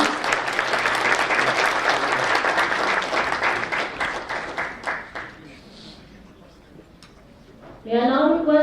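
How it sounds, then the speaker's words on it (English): Audience applause at the inauguration of a conference conclave in India, thick clapping for about five seconds that thins into scattered claps, followed by quiet and then a voice. "A round of applause, please."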